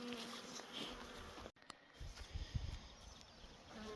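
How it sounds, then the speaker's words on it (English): Honeybees swarm around a bee yard where hives are being worked, a steady airy buzz of many insects filling the background, with a brief dropout partway through and low thumps and rustles near the microphone. "Lots of bees."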